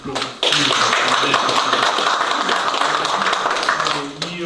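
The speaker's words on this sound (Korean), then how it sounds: "네, 인사하시고 박수로." An audience claps at the launch ceremony of a national movement, a dense, loud burst of applause that starts abruptly, holds steady for about four seconds and then tapers off, with a few voices underneath.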